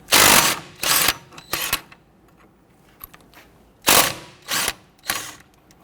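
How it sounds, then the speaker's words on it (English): A 24mm socket and wrench loosen steering knuckle nuts on a 2006-2014 Honda Ridgeline, giving sharp ratcheting bursts in two groups of three, close and loud, with quiet gaps between. "Using a 24mm socket and a 24mm wrench, I want to go ahead, loosen and remove these nuts."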